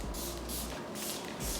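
Makeup setting spray misting in fine bursts, several soft airy hisses close by, alternating with brief quiet gaps, fairly faint with no talking.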